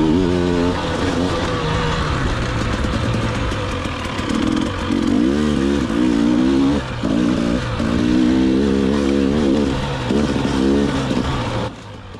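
A KTM 300 TPI two-stroke enduro motorcycle ridden hard on a lap, engine loud and close throughout, its pitch rising and falling as the rider shifts and varies the throttle, then dropping away at the very end.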